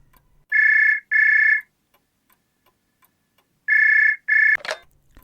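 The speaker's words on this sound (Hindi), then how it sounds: "तभी फोन की घंटी बज उठी।" A telephone rings in two double bursts, each pair of shrill electronic trills separated by a pause, clear and close, followed by a short click as the receiver is picked up.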